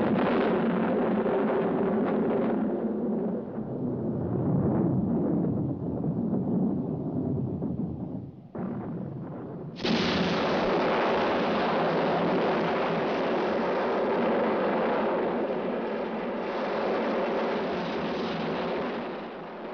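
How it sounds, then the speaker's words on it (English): Heavy, rumbling blasts from miners' explosive blasting roll in continuously, loud booming and roaring with a brief dip then a sudden renewed surge, a dense low thunder with no speech over it. "the shrill of the exchange is drowned out by the blasts of the miners' explosions"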